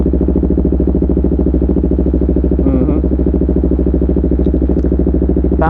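A 600cc sport motorcycle engine idles loud and close with a steady, throbbing, lumpy beat, lifting in a couple of brief revs.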